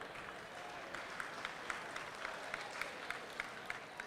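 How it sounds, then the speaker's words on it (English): An audience claps steadily for several seconds, a dense wash of applause with a few sharper claps standing out. "let's hear some claps for that."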